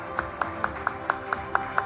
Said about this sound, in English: Please, let's give him a huge round of applause.